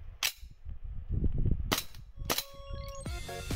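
An SRC metal-slide gas blowback M1911 airsoft pistol, a Springfield Armory custom, fires several sharp cracks with metallic slide clacks, spaced irregularly, close and crisp, followed by a ringing metallic tail.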